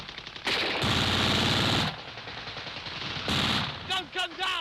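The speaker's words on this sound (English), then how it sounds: "we got held up by machine gun fire from the strong point at the bottom" Loud bursts of sustained machine gun fire in a 1942 wartime raid setting, two long rattling volleys separated by a brief pause, followed by a few shorter sharp shots.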